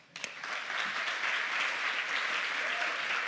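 Steady applause from a conference audience, a brief sharp clap at the start, then dense clapping sustained throughout at moderate loudness.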